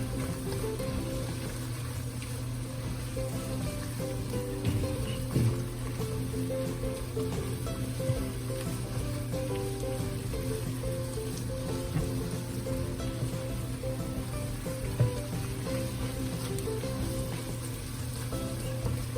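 Shrimp scampi with capers sizzles in a pan, a steady, dense frying hiss with faint crackles and pops that continues evenly for the whole stretch.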